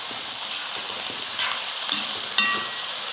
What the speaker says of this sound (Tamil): பாருங்கள், வெங்காயம் வந்து நல்லா வதங்கிடுச்சு